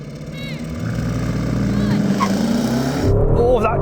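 Jeep Trackhawk, Porsche, Tesla and other performance SUVs launching in a drag race, engines droning and rising in pitch as they accelerate away at moderate distance, with a person talking over the noise.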